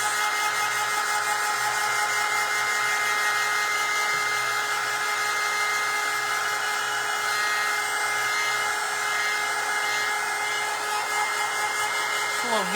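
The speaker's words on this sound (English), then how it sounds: "All right, so we're gonna dry Santa." A dryer blowing steadily on a vintage Santa craft print, a continuous whirring hum with a high whine that holds unchanged throughout.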